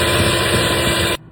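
Steady whirring of an electric hand mixer beating chocolate cake batter with oil, loud and continuous, cutting off abruptly near the end.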